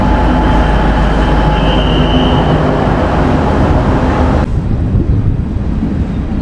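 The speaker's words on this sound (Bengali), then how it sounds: "ট্রেন ঢুকে গেছে আমাদের" A train pulls into Banihal station in Kashmir, arriving from Sangaldan; a loud, steady rumble of rolling carriages with a brief high squeal, then the noise drops suddenly near the end, no talking.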